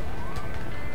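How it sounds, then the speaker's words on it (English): A loud police car siren wails with a rising, gliding tone in the video game A Way Out, heard close and dominant for a brief moment. "Oh no, there is a police car there."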